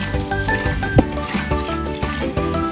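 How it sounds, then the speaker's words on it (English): Water drains and trickles off freshly washed sweet peas, a steady liquid pour with small splashes and drips, and a soft burble continuing throughout. "You can easily drain the water."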